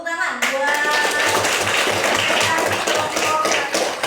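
A classroom of students clapping for a group, a dense burst of hand claps settling into a steady rhythmic beat, close and lively, following a brief opening voice.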